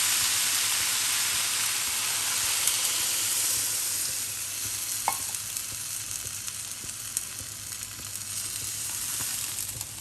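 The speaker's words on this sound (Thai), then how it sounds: "จากนั้นใส่น้ำลงไปค่ะ" Water poured into a pan of softened, sautéed onions for Japanese curry, producing a steady loud sizzle and hiss that settles slightly after a few seconds, with faint stirring clinks.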